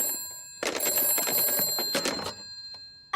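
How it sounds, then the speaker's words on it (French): A cartoon telephone rings in a bright, rapid electronic trill, a sustained burst of about a second and a half followed by a short fading tail, with no talk over it. "je vais appeler mon amie Madame Elfe"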